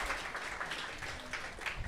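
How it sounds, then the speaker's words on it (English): Audience applause at the Ark, a music venue in Ann Arbor, honoring its members: a steady wash of clapping that holds level for a couple of seconds, fairly faint and distant, with no voices over it. "Give yourselves a round of applause."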